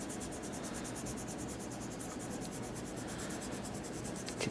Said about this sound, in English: use the side of my ebony pencil